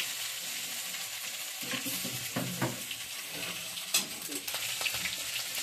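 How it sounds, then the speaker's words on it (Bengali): A few cumin seeds and chopped ginger frying in hot oil in a wok, a bright continuous sizzle with spitting crackles and a couple of stirring scrapes, fairly quiet and close with no talking. "তেলের মধ্যে আমি অল্প কটা জিরে দিয়ে দিচ্ছি, একটু আদা কুচানো দিয়ে দিচ্ছি"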